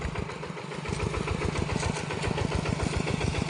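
A tractor engine runs steadily while plowing a rice field for sowing, loud and close, with a continuous chugging throb and no voices.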